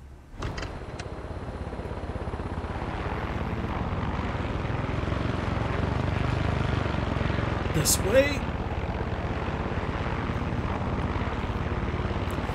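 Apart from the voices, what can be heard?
helicopter flying in a video game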